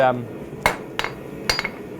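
Power hammer blows in a blacksmith forge, three sharp metallic strikes spaced irregularly, loud and close with ringing decay between hits.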